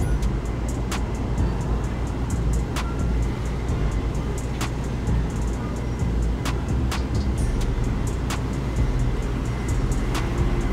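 An Oldsmobile 98 Regency Brougham cruises in GTA 5 with a steady low engine rumble. Sharp clicks or ticks land at irregular intervals over the hum, and there is no talk.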